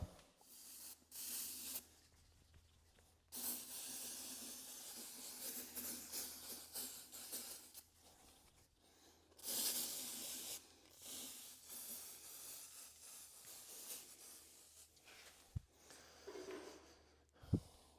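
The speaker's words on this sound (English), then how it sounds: "now we'll spray the baby powder on" Long hissing bursts of baby powder aerosol spray, several sustained sprays separated by short pauses, close and steady, applied to a Case 1840 frame to check for cracks.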